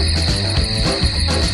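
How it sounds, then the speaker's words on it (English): A common field grasshopper chirps in a steady, unbroken buzzing trill, loud and close throughout, with no voices. "Common field grasshopper."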